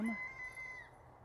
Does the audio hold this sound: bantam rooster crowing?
yes